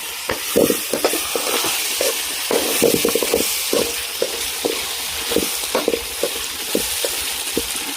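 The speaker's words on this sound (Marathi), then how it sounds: "एक दोन मिनटं आपण याला असं थोडंसं शिजवून घेऊया" Goat liver masala cooks in a pan with a constant sizzle, broken by frequent sharp spatula scrapes and stirring knocks at an uneven rhythm.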